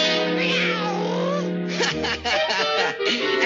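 A cartoon cat in a mouse cartoon lets out a long, loud, wavering meow followed by a burst of shorter yowling cries, close and prominent over a busy soundtrack.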